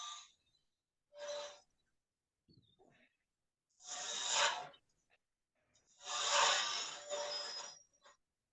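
A wood lathe turns an offset rolling pin handle while a tool rasps against the spinning wood in short scraping bursts separated by silent gaps, close and moderately loud.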